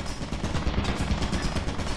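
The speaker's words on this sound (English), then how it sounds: "Careful, the turret down the catwalk." Turret in the video game Lethal Company firing down a catwalk, a dense, continuous rapid burst of gunfire that rattles steadily for the whole stretch, loud and close.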